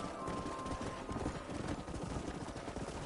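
Horse hooves clip-clopping in the video game Red Dead Redemption, a steady rhythmic trot running continuously under a dense game soundscape.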